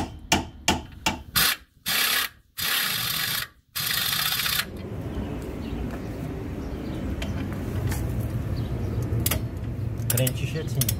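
A ratchet tightens a new lower ball joint bolt and nut on a Chevrolet Sonic front suspension, with a burst of quick loud clicking strokes that gives way to a long grinding rasp.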